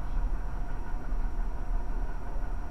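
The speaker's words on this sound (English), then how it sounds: "It's a train." A continuous low rumble of a train rolling past, steady and fairly close, with a dense mechanical drone throughout and no voices.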